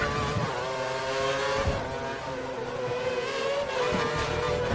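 A Formula 1 car howls at full revs around Monza in the F1 2013 video game, a high sustained engine whine that holds steady and dips slightly before climbing again, loud and continuous.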